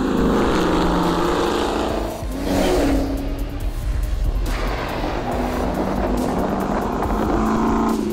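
A Ford Mustang Bullitt and a Dodge Challenger Hellcat Widebody launching together with tires spinning and smoking, a loud sustained engine roar with screeching rubber that dips briefly and then surges again, close and continuous.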